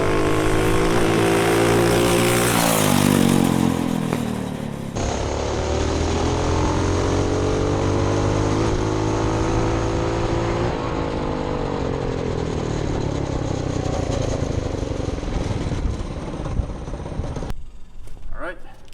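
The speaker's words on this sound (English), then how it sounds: "There's a whole different character to the engine." A go kart engine fitted with a billet flywheel and billet parts revving hard, rising and falling in pitch as it pulls at high revs, loud and close, with people talking over parts of it.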